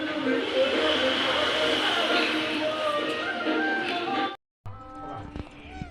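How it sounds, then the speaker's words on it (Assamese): Meat boils in a pot, bubbling and hissing steadily at close range, then the sound cuts off abruptly and quieter kitchen clatter follows. "এইফালে আমাৰ মাংস উতলি আছে"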